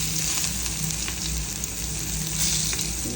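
Garlic sizzling in hot oil in a pan while cooking fish curry: a steady, loud, continuous frying hiss and crackle throughout, with no talking.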